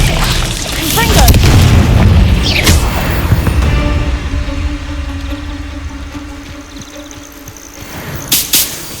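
A Confringo blasting spell goes off in Hogwarts Legacy with a loud, deep boom that swells and rolls over the first seconds, then fades into a lingering rumble and ambient hum, ending with a couple of sharp clicks.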